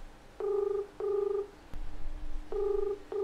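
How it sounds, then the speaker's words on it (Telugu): A phone call to an Oppo service centre rings out with a repeating double-burst ringback tone, two short pulses, a gap, then two more, clear and electronic over a quiet line. "రింగ్ అవుతుంది."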